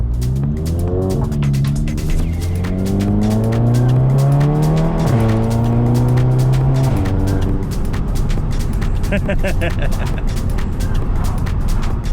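A hybrid-turbo MK7 Volkswagen GTI with a DSG gearbox accelerates hard from inside the cabin, engine note climbing through rising shifts in a loud, close run, then settling to a steady drone.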